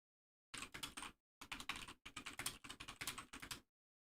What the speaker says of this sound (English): Here I'm typing. Get to see me type.